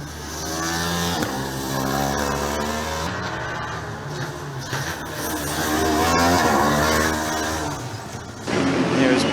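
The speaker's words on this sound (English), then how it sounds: "That car sounds really good as it drives past us as well" A Formula Student race car on an endurance run at FSG 2018 roars past, its loud engine drone rising and falling in pitch throughout, with a brief dip in intensity midway.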